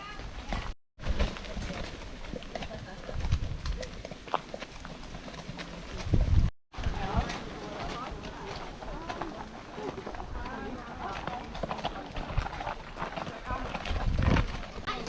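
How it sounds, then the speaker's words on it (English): Eight or nine horses from a riding group heading down to a beach walk along a coastal road, their hooves clip-clopping in a steady patter close by under ongoing talk and outdoor noise. "That's it, past the horses."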